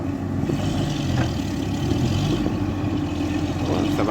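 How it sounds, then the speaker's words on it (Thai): A ten-wheel truck engine pulls away gently up a slope, its low steady drone holding at moderate loudness with faint background noise throughout. "เร่งเครื่องไม่แรงเท่าไหร่ครับไปนิ่มๆ ดูออกตัวกับทางเนินๆยับสิบล้อ"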